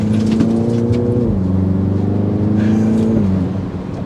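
A 2024 Mini John Cooper Works Clubman pulls strongly on a test drive, its engine note rising steadily, dropping at an upshift and then climbing again, heard loud and close from inside the car.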